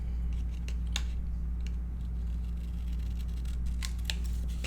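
Scissors cut paper for a handmade mini album, with a few crisp snips scattered over a steady low hum of room noise, close and fairly quiet.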